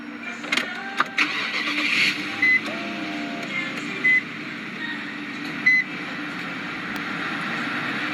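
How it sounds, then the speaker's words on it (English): A 2008 Infiniti M45x engine is started with its push button, cranking and catching into a steady idle, with a few short electronic chimes over the running engine and no talking. "Just put your foot on the brake, hit the button to start."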